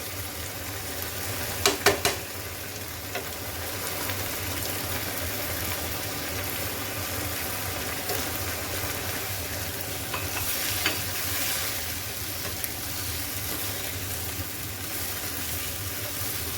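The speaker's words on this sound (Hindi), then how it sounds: "अब इसमें मैं ज़ीरा, नमक, काली मिर्च और चिकन स्टॉक ऐड कर दूँगी" Cumin, salt, black pepper and chicken stock go into a pot of green peas chicken pulao. A steady, close sizzle and stirring runs throughout, with a few sharp clinks near the start and no talking.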